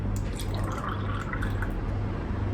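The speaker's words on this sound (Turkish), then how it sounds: "Ama ben keke genelde bir buçuk su bardağı süt koyuyorum" Milk is poured in a steady, continuous stream into cake batter in a bowl, a close, even liquid pouring and trickling sound throughout, with no talking.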